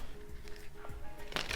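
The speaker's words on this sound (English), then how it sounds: "I hope I'm not shuffling too hard that it's in the camera." A deck of Light Seers tarot cards is shuffled by hand close up, giving short papery riffles and soft flicks. A louder burst of shuffling comes at the end.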